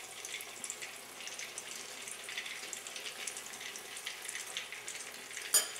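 A tortilla taco fries in hot oil with a faint, steady crackling sizzle throughout, ending with a brief clink.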